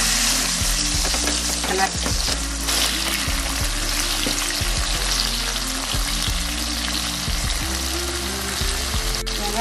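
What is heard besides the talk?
whole small onions frying in a pan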